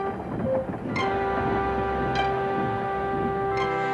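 Gordon, a large steam engine, rolls along the rails with a steady rumbling run and periodic soft puffs, against a sustained tonal background.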